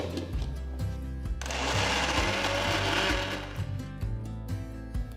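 An electric wet grinder churns soaked lentils into thick vada batter, a steady loud whirring motor drone with a surge in the middle and gritty churning throughout, heard alone.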